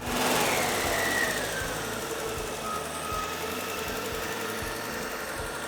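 A carbureted off-road vehicle engine, freshly primed after sitting for a while, runs steadily at a loud, even idle with a rough low-frequency pulse and no talk.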